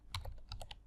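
Quick, faint clicks of a computer keyboard tap out a short word, about seven keystrokes in an uneven burst lasting under a second.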